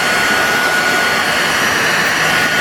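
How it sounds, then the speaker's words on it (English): A heat gun is held low to warm a piece so its melamine facing peels off, producing a steady, loud blowing roar that stays constant throughout, with no break. "Put the heat gun down low."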